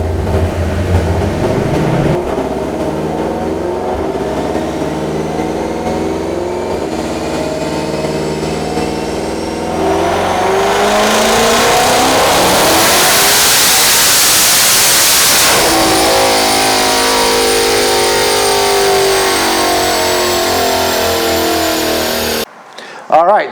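A twin turbo Shelby GT500 roars through a dyno pull, its engine note climbing steadily and loudly to a screaming peak before the throttle cuts off abruptly near the end.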